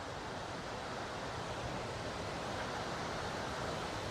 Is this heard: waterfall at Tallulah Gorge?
yes